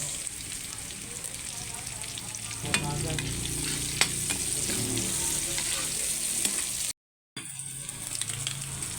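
Garlic, ginger and onion sauté in oil left over from frying tilapia, giving a loud, continuous close-up sizzle with occasional pops and a brief dropout near the end.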